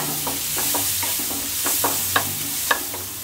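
Onion frying in butter in a pan, a steady bright sizzle with repeated stirring scrapes and a couple of sharp utensil taps, close and without talk.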